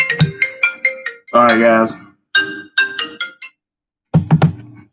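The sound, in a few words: phone ringtone from an incoming call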